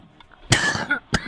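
A football game commentator in the broadcast booth coughs sharply twice, a loud close hack followed by a second shorter cough after a brief pause, with no speech.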